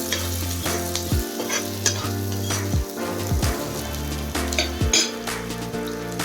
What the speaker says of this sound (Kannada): ಪೆಪ್ಪರ್ ಹಾಕ್ಕೊಂಡು ಅದನ್ನು ಚೆನ್ನಾಗಿ ಫ್ರೈ ಮಾಡ್ಕೊಬೇಕು